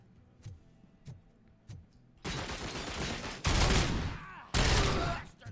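Gunfire in the RoboCop video game with a slow rate of fire: a few sharp clicking shots early, then loud sustained bursts of heavy blasting, with a voice faintly present.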